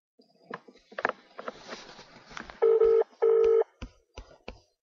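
A phone number being dialed: two long, steady keypad tones stand out among quick handling clicks and taps near the handset.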